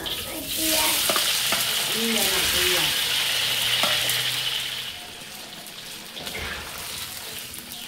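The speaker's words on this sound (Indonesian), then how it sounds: "Ini kita goreng lagi tahu yang udah saya potong dadu." Diced tofu sizzling and frying in a pan, a steady close crackle with stirring clatter, occasional brief talk over it.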